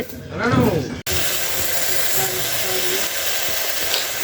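Fenugreek greens (methi) cook in a pan with a steady, loud sizzling hiss of steam that runs unbroken after a brief spoken voice at the start.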